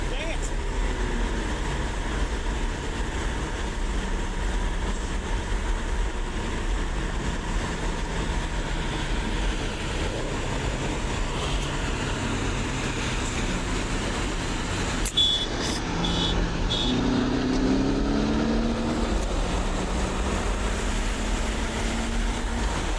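Honda Civic Type R, Audi S3 and Subaru STI, all stock, racing: a continuous loud engine drone with wind and road roar heard from inside one car, shifting pitch midway as gears change, with a voice talking over it.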